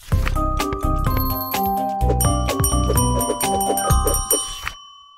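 A quiz-show buzzer bell is struck repeatedly, with bright, ringing, overlapping dings that decay in a fast, uneven series, loud and close with no talk over it.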